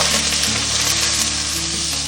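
Eel sizzles loudly and steadily in a little oil in a hot iron wok over high heat, a dense continuous frying hiss with no pauses and no voices.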